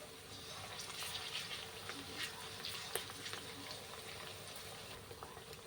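Onions fry in a pan with curry leaves, ginger garlic paste and turmeric, giving a faint, continuous sizzle with scattered soft crackles and pops.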